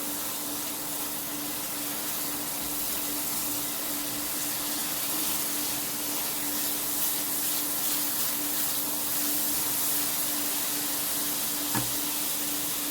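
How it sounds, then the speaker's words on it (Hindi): Ginger, garlic and spices fry in ghee with a continuous, even sizzle and crackle throughout, close and moderately loud, with one brief knock near the end. "अब ये अदरक लहसुन की स्मेल आ रही है तो इसको अच्छे से भून लें आप।"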